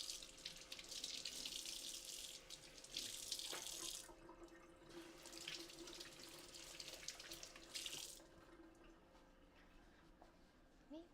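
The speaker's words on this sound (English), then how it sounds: "Let me wash my hands real quick." Hands washed under a running kitchen tap, with water splashing loudly in bursts as hands move through the stream, fading to a quieter trickle and background hum near the end.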